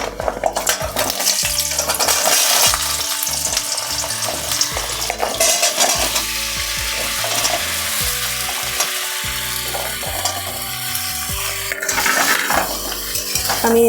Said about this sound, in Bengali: একই তেলে আমি সব সবজিগুলোকে ভেজে নেব এবারে।